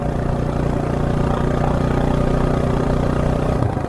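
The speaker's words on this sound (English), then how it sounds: "Don't you just love the sound of a KLR?" A Kawasaki KLR 650 motorcycle engine idles loud and close, a steady, throbbing single-cylinder chug that holds evenly for several seconds before cutting off abruptly.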